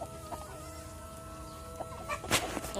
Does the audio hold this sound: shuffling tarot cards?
no